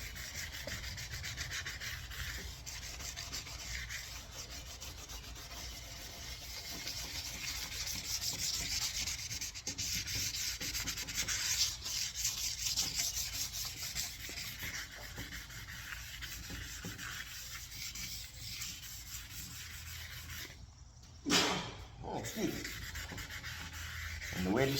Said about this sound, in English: I'm gonna sand this a little bit more to make this area rough so the primer